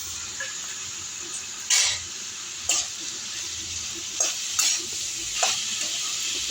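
Bitter gourd dry palya with tomato frying in a pan, a steady sizzle with a spatula stirring and scraping in a few distinct strokes, close and clear with no talking.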